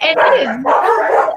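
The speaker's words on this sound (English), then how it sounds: "Sorry about my dogs." Dogs barking in a home during a spoken online class, two close, loud bark bursts heard over a person talking.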